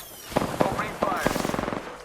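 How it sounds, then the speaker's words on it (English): Gunfire in Apex Legends: a few separate heavy shots, then a fast rattling automatic burst that fades at the end, with a voice talking over part of it. "Opening fire."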